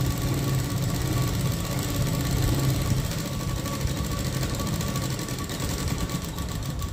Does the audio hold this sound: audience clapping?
no